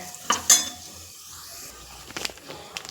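Homemade masala spice mix spooned into hot oil for a Maharashtrian matki curry, with a soft steady sizzle under clinking spoon taps against the pan and stirring scrapes, close by.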